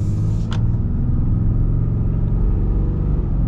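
A 2022 Ram 2500 Mega Cab Limited pickup accelerates hard, its engine a loud, steady low rumble that holds close and constant throughout with no voices over it.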